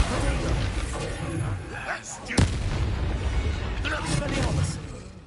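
In the video game Hogwarts Legacy, a Bombarda spell explodes in a loud, dense blast with a sharp crack in the middle, amid booming combat effects and a speaking voice.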